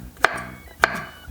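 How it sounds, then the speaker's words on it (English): Two sharp knife chops on a cutting board, evenly spaced, as vegetables are diced for a momo filling; close and crisp with quiet room tone between strikes. "Kind of dice them into quarter of an inch so that it's easier for"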